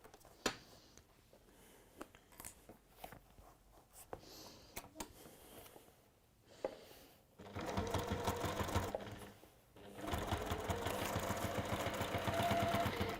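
A domestic sewing machine runs a long stitch in bursts: scattered clicks and handling taps first, then two sustained whirring runs with a fast mechanical rhythm, separated by a short pause, close and fairly loud.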